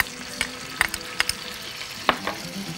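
Garlic and whole mushrooms fry in hot oil in a wok, a steady close sizzle broken by several sharp clinks and scrapes of a utensil stirring, with no talk.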